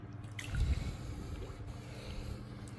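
A cordless robotic pool cleaner is lowered into pool water, giving a short soft splash and sloshing near the start, then a low, quiet watery wash.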